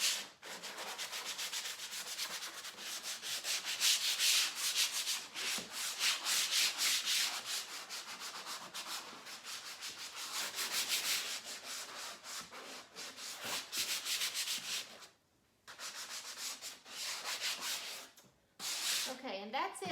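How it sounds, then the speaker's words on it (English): A 150 grit sanding sponge rubs briskly over painted upholstery fabric, a close, continuous scratchy rasping in quick back-and-forth strokes with brief pauses near the end. "this is a 150 grit sanding sponge that I had around, and I'm just going to basically sand the fabric and soften it up a little bit"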